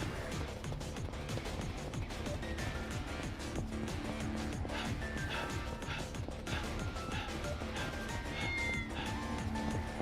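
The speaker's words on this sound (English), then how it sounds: "I heard the cat." A cat meows in the Yakuza 6 video game, several short cries over a busy backdrop of game music and clattering ambience, with no clear talk.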